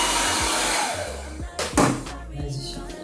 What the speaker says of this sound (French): je passe un petit peu de sèche-cheveux sur les lunettes